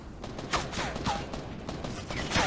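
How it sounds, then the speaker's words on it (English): Rapid bursts of gunfire from a Fortnite duos match crackle through the stretch, several close shots over a steady game backdrop. "They're shooting at me."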